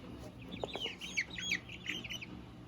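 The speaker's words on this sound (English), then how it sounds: "I hear her little barred rock sister over here cheeping" A Barred Rock chick, about two to three weeks old, cheeps in a quick series of high, thin peeps. The sound is moderately close and set against a low room hum.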